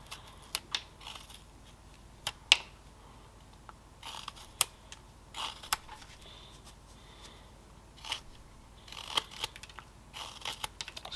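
A knife carving wood while whittling a small Saxon priest figure, sharp irregular scraping and slicing cuts, a few close crisp strokes spaced through the quiet.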